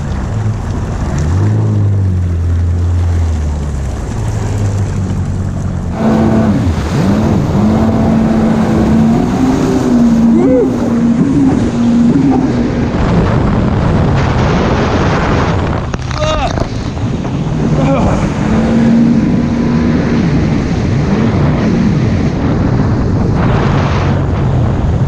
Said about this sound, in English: Maybe it's that 1800R supercharged motor